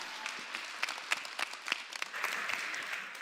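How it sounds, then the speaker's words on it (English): An audience at a creative conference gives a short round of applause, with dense clapping and a few sharper individual claps standing out. "let's give a big round of applause, Deimantė Jakubovskytė."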